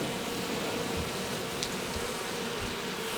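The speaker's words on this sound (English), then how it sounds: "There's another drone bee, 2 drone bees." Honey bees, including drones, buzz continuously around an open hive in a growing apiary, a steady close droning hum with no talk.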